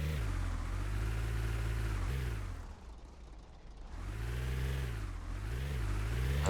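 A vehicle in the video game Retail Tycoon 2 drives with a steady, smooth engine whir that rises and falls as it speeds up and slows. It sounds close, moderately quiet and constant, with no speech.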